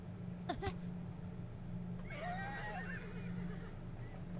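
A horse whinny in a fantasy video game: a wavering, neighing call rising and falling after a short sharp sound, heard over a steady low hum, fairly faint with no talking.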